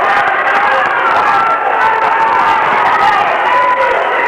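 Loud, dense crowd roar and cheering fills a high school basketball gym at a 1990 Farmington vs. Gallup Bengals game, sustained and unbroken throughout with shouting voices mixed in.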